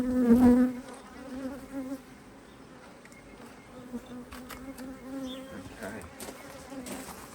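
Honey bees buzz steadily around an opened hive during an early spring inspection in swarming season, a close, continuous drone with a louder burst at the start and occasional clicks and handling knocks.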